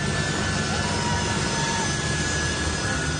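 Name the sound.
jet engine of an American Globemaster military plane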